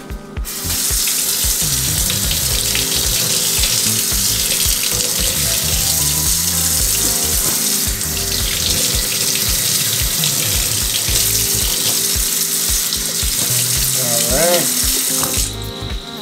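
Jordan 3 sneakers rinsed under a running tap, the water rushing loudly and steadily from start to finish with faint splashing shifts as the shoes move.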